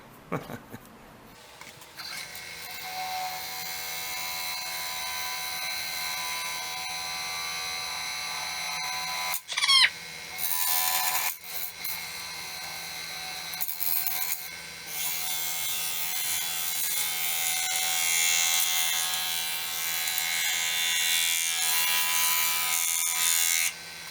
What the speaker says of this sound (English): Use this carbide cutter I got.